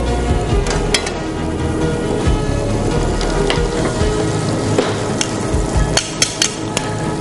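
Butter sizzles in a frying pan as it is spread around, giving a steady close hiss broken by scattered sharp clicks and taps from the pan.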